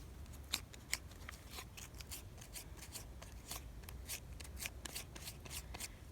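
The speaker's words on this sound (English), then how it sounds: "you're going to want to sand it, just kind of lightly sand where the tear is" A torn bicycle inner tube is lightly sanded around the tear while fixing a flat tire, giving faint, close rhythmic scratchy strokes that repeat steadily over a low background hum.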